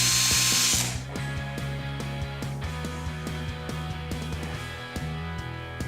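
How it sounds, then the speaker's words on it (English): A drill driver runs briefly at the start, driving screws into a PXC 18V grass trimmer, then stops, leaving repeated clicking and ratcheting taps at a steady rhythm close by. "grab your drill driver and screw them in."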